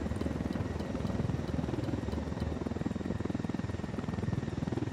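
A video game helicopter's rotor thumps in a fast, steady pulse over a constant engine drone, loud and close throughout with no voices. From Ghost Recon: Wildlands.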